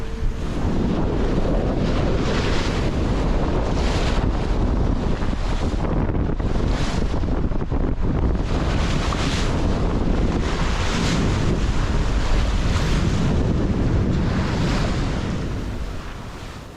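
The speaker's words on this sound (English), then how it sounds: "Sliding along, watching the ocean waves is mesmerizing." A sailing yacht crosses the open North Sea from Norway toward Shetland at six to seven knots. Steady wind buffets the microphone over a continuous wash of ocean waves, loud and unbroken throughout with no voices.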